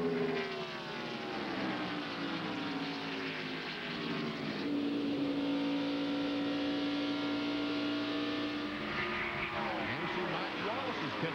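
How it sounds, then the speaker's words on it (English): A Ford stock car in a 1997 NASCAR Winston West Series race at California accelerates off a corner, its engine note rising then holding a steady high drone amid other cars, with commentary over it. "the Ford just accelerates up off the corner"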